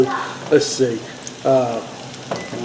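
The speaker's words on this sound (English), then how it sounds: "I want to see the sizzling and popping and stuff like that." Food sizzles and pops in a hot pan while a roast is browned in a home kitchen, the crackling coming in short bursts under a man's speech.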